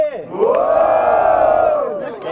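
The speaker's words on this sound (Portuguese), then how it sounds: "Barulhos, barulhos pro Yakuza" Crowd at a student rap battle in Guarulhos roars with cheers and shouts, a loud sustained wave of voices that swells quickly and holds for a couple of seconds.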